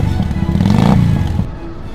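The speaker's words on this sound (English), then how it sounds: "really, must they rev their engines before one has even had one's marmalade?" Motorcycle engines revving outside Buckingham Palace, a loud, close, throaty roar that climbs in pitch and then eases off over about two seconds.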